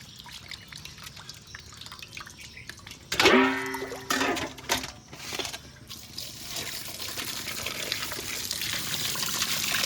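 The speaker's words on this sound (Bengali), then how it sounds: "মাছগুলোকে জল দিয়ে ভালো করে ধুয়ে নিয়েছি।" Pieces of local rohu fish are rinsed with water, with splashing and trickling near at hand, a sharper pour and clatter in the middle, then a steady running flow that builds toward the end.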